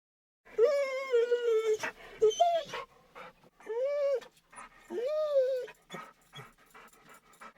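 A dog yelps and whines in loud, close, drawn-out cries, with a few short sharp yips and pauses between the longer wails.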